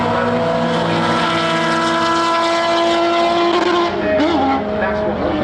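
A Peugeot 208 rally car races at Brands Hatch during a winter stages event, its engine a loud, steady roar with rising and falling pitch as it passes close by. Other vehicle noise sits beneath it.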